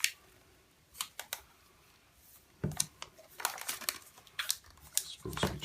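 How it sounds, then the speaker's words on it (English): Protective plastic film peels off Apple Watch packaging in a series of close, intermittent crinkles and crackles, with a brief pause before a louder burst of rustling tears at the end. "Okay, so let's peel this off."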